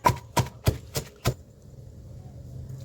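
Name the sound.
pounding chillies in mortar for chutney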